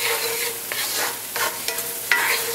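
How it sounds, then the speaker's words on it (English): Flour being stirred into a roux in a pan, with repeated scraping strokes of a utensil over a soft, continuous sizzle of frying fat, close and fairly loud. "Just keep on stirring. Make sure you stir."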